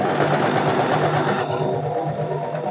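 Domestic sewing machine stitching a katori blouse, a steady continuous mechanical whir with rapid needle rhythm running loud and close for the whole stretch, softening slightly midway.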